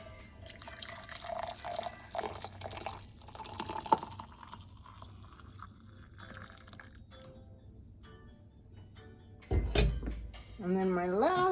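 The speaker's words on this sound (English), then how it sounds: "toddy into a glass." Hot rum toddy with a cinnamon stick is poured into a glass in a home kitchen, giving a soft trickling, dripping stream with a few clinks, heard under background music and voices.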